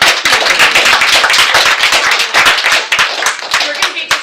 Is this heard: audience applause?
yes